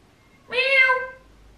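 A single close cat meow, clear and drawn out for under a second, rising then falling, in an otherwise quiet room.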